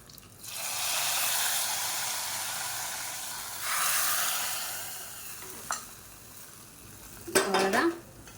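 Garlic and curry leaves tempered in hot oil are poured into a tomato side dish, giving a loud, steady sizzle that swells twice, followed by a few clinks of a metal pan and spoon near the end.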